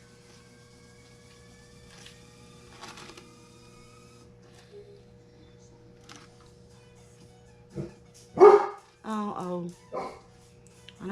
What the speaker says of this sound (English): I don't know what my Doberman's barking at.